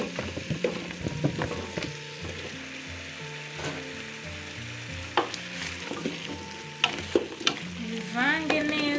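Vegetables are stirred in a hot pan, with a continuous sizzle under repeated scraping and clinking strokes of a utensil against the pan, some sharper knocks near the end.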